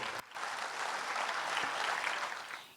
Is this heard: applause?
yes